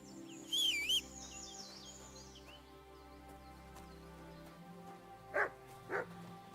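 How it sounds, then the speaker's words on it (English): Dog barking in Kingdom Come: Deliverance II, two short sharp barks close together near the end, after earlier chirping bird calls over a quiet ambient game backdrop. "The dog."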